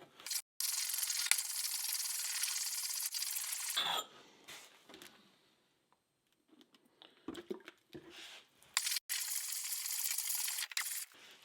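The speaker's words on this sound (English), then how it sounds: "As you're sharpening this thing, you're wanting to shave this rock." A steel edge of a cheap 13-inch camp hatchet rasps steadily across a sharpening stone in long continuous strokes, then a pause with scattered handling scrapes and clicks before the grinding resumes.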